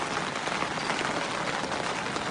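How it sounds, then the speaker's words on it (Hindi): Heavy rain pours down steadily outdoors at night, a dense, even hiss of drops close by with no clear breaks and no talking. "बारिश और तेज़ हो गई है,"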